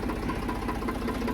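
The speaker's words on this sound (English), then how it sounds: "Okay, we got the tractor running." A tractor engine idles steadily nearby, a low even mechanical rumble with a slight knocking beat, heard alone while preparing to run a Welger AP51 baler.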